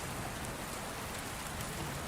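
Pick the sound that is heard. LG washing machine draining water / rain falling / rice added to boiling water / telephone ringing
rain falling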